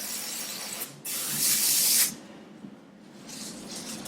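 An airbrush sprays nail varnish through a stencil onto a nail in bursts, a steady close hiss lasting about a second, then a quieter fainter hiss near the end.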